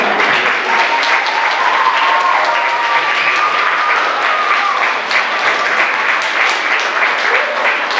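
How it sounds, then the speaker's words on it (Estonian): An audience at a school singing-show finale claps for all the performers, a dense, sustained round of applause from a crowd indoors, steady in loudness throughout. "me võiksime aplausi teha üleüldse kõikidele esinejatele"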